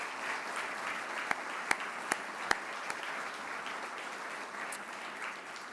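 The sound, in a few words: golf clap applause for LPGA champions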